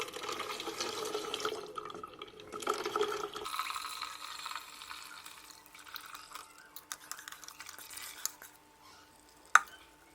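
Watery wheat pulp being strained for kurdai, a Maharashtrian wheat snack: steady liquid pouring and trickling through a strainer, with soft splashing and a brief sharp clink near the end.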